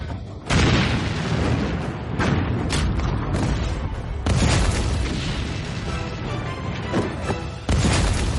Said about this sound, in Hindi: कमांडर, तोपों की आवाज।